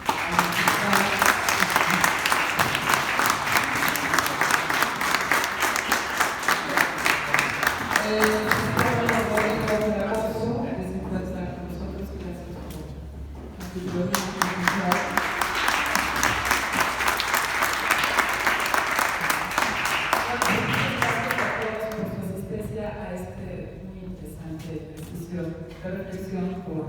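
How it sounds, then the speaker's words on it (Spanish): An audience at a Hidalgo 150th anniversary event gives the invited guests a long burst of dense applause, then a short lull before a second sustained round of clapping that fades out. "darle un gran aplauso a los invitados"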